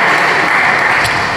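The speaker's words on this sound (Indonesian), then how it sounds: "Beri tepuk tangan terbaik buat Tuhan Yesus." Church congregation applauding during a sermon, a loud, dense burst of clapping from many hands that fills the whole brief moment without any talk.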